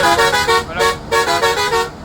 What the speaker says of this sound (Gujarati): આ એક પ્રકારનો હોર્ન આ જ છે.